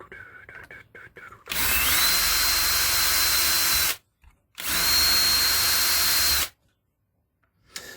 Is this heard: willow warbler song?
no